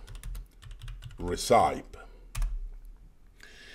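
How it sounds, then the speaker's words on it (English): Someone types a command on a computer keyboard in a steady patter of light clicks. A voice briefly speaks over the middle. "We will start creating new project by typing Minos"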